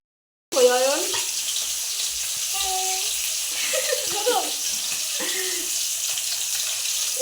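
Fish fries in a pan with a loud, steady hiss and crackle that starts abruptly and carries on to the end, while voices chatter intermittently over it.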